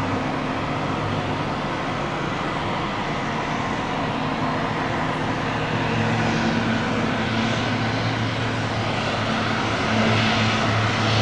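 An airplane taking off, its engine roar loud and steady from start to finish, a dense sustained rumble with a low droning hum that slowly builds in intensity.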